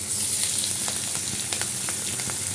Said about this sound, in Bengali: এই চিংড়ি মাছগুলো দিয়ে দিচ্ছি।